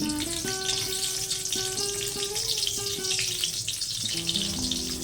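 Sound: whole garam masala spices frying in hot mustard oil

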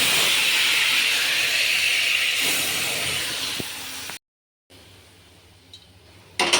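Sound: dal tempering with cumin, dry chilli, bay leaf sizzling

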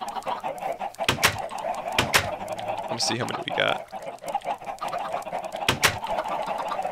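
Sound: chickens clucking in Minecraft video game

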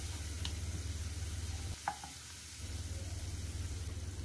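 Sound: grated garlic sautéing in a pan

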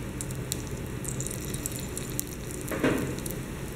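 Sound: frying food in olive oil, browning both sides

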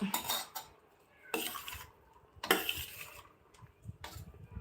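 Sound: mixing lemon rice (pulihora) with added salt

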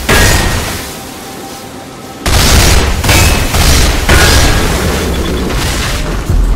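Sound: gunfire shooting large bolts in video game Damnation

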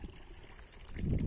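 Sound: spring water trickling into a small pond

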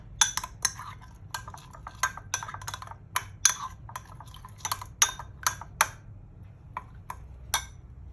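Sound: stirring banana blossom durian som tam with the mixed liquid

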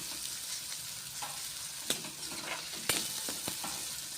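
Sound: onion being sautéed until pink

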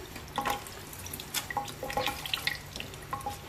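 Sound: rinsing a paint-soaked rag in water

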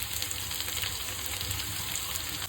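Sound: onions frying in oil with mustard seeds

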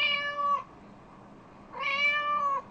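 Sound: cat meowing

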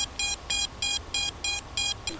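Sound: beeper on a crashed FPV drone

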